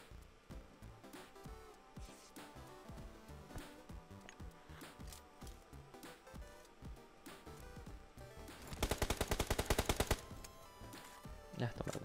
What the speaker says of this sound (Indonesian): temen gua nembak lagi